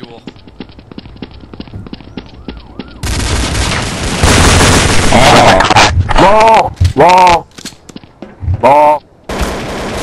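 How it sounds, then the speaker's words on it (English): Dual Elites pistols in Counter-Strike: Source fire in rapid, loud cracking volleys mixed with other gunfire and several sharp pulses, while players talk over the shooting. "these dual elites are the best gun ever"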